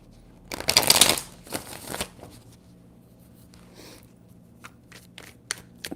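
Tarot cards are shuffled close by in one loud riffling burst, followed by quieter taps and light handling sounds, with no voices.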